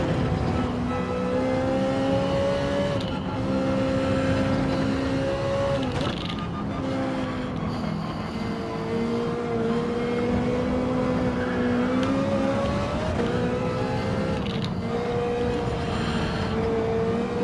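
Race cars in a Gran Turismo race with BMWs battling, a steady drone of engines with shifting pitch throughout, fairly even and continuous.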